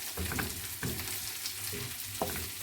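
Minced meat filling sizzling and frying in a pan while being stirred, a steady hiss punctuated by scraping strokes of the spoon at a close, moderate level.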